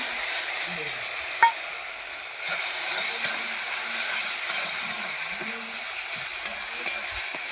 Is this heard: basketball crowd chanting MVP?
no